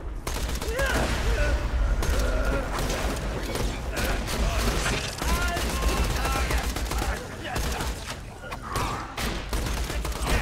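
Enemy grenades and gunfire in the Borderlands 2 shooter game, a dense barrage of bursts and explosions going off continuously at close range, with no pause between blasts.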